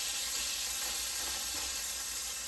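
A burger patty sizzles in a frying pan, giving a steady, loud, close hiss with faint crackle that runs without a break and with no talk over it.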